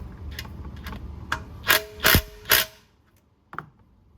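An impact wrench clicks on an oil drain bolt in a few sharp, close bursts, three in quick succession and one more after a short pause.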